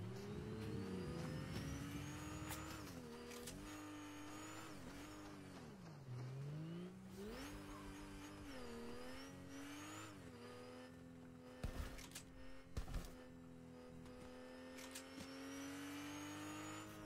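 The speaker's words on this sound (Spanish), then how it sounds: "Esta moto más lenta." A motorcycle engine in the Kao the Kangaroo video game revs and holds a buzzing drone, pitch rising and dipping as it speeds and slows, with a few sharp clanks partway through.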